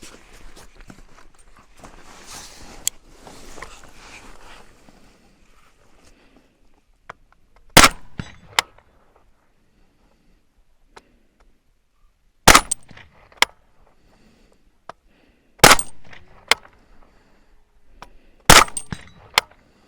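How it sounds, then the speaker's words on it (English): A Steyr AUG A3 M1 rifle in .300 Blackout fires suppressed shots one at a time, each a sharp, loud crack with long gaps between, spread across a quiet outdoor range. "Let's just start shooting stuff."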